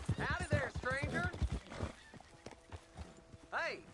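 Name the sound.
horse hooves in video game Red Dead Redemption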